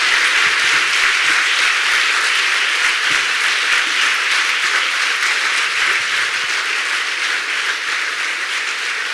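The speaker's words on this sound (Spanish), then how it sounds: "Así que un aplauso muy grande para Pilar Rahola" An audience at a Middle East conference claps steadily in a loud, dense round of applause welcoming a speaker to the stage, sustained evenly throughout with no talk over it.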